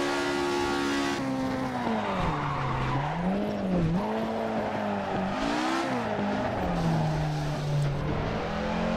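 Continuous tire squeal as a car skids through corners in the Assetto Corsa racing game, engine note rising and falling in pitch with revving throughout, loud and sustained with no talking.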